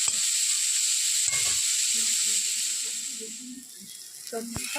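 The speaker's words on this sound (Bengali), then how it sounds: "সবজিগুলো আমার লাল লাল করে ভাজা হয়ে গেছে।" Vegetables frying in a pan for khichuri give off a bright, continuous sizzle that fades slightly toward the end, with faint murmuring and clatter underneath.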